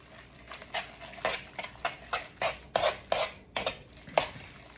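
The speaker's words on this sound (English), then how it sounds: "I'm gonna stir these together so that way they can start coming together" Utensil clinks and scrapes against a bowl as egg and grated cheese are stirred together for pasta carbonara, a quick, steady rhythm of soft taps close by with no talking.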